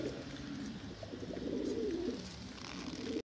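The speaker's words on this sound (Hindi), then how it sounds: "सियालकोटी कबूतर है दोस्तों, मोतियों वाला बटेरा, अली वाला कबूतर है ये" A Sialkoti pigeon gives soft, repeated throaty cooing heard close and alone, a low bubbling burst of calls running through the whole short moment.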